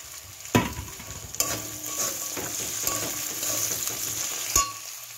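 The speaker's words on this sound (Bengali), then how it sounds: "দেখো এটাকে এবার ভালো করে ভেজে নিচ্ছি।" Peas and tomato fry in a very hot wok with onion, ginger, garlic and dried chilli, giving a continuous sizzle punctuated by several sharp spatula knocks and scrapes.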